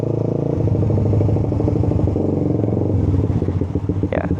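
A Suzuki GSX 150 motorcycle rolling over humps with the clutch worked, its single-cylinder engine loud and close with a throbbing low pulse that shifts pitch as revs change, plus a brief clatter near the end.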